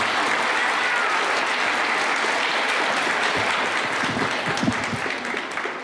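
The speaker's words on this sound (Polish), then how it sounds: "Dzieciaczki, bijemy brawo." Children and an audience at a Christmas nativity play event clap together in steady, dense applause that continues throughout at an even, fairly loud level.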